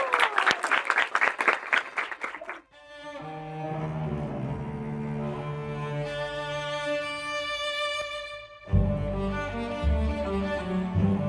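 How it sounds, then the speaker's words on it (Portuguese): An audience at a Passion of Christ production applauds the actors in a quick, lively burst of clapping that stops abruptly and gives way to sustained music. "Uma grande salva de palmas para esses atores."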